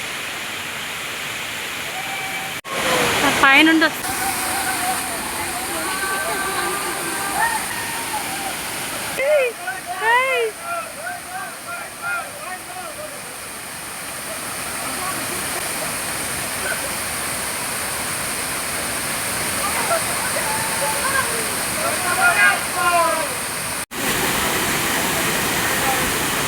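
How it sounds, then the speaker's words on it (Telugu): Monkey Falls waterfall at Aliyar roars as a constant, loud rushing of falling water that fills the scene, with people talking and exclaiming close by over it. "చూడండి వాటర్ ఫాల్స్"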